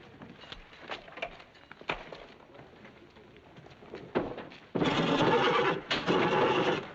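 A horse neighs loudly in a long, shrill whinny near the end, after some scattered shuffling and clopping noises.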